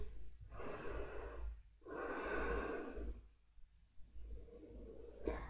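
Slow, deliberate breaths during a yoga flow toward pyramid pose (Parsvottasana), two long airy inhale-exhale cycles close to the listener, steady and unhurried, with a brief pause between them and no talking.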